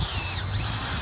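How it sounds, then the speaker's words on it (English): A power drill whines steadily at close range as it bores a tap hole into a maple tree in a residential yard, one short continuous burst with no talk. "So I'll start me a little guide hole. That way I can turn the drill"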